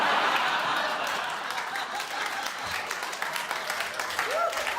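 A stand-up comedy audience claps steadily with a few scattered chuckles, a dense wash of applause filling the room for several seconds while faint voices drift underneath.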